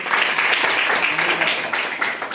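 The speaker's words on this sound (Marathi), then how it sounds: "टाळ्या वाजवा याच्यासाठी." Schoolchildren at a Jawahar Navodaya Vidyalaya school clap for a student's model, a short, loud burst of lively applause from a nearby group.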